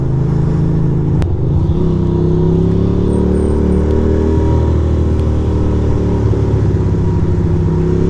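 Motorcycle splitting lanes through morning commuter traffic, its engine a steady loud close drone throughout with a brief sharp spike near the start and slight shifts in pitch as it moves.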